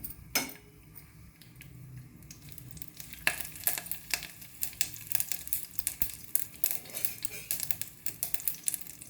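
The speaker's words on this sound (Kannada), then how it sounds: "ಈಗ ಸಾಸಿವೆ ಎಲ್ಲ ಚಟಪಟ ಅಂದಿದೆ, ಬೆಳ್ಳುಳ್ಳಿ ಎಲ್ಲ ಕೆಂಪಾಗಿದೆ." Mustard seeds and seven or eight crushed garlic cloves splutter in hot oil for a bassaru kaalu palya, a steady close sizzle broken by sharp irregular pops and light utensil clinks, with no one talking.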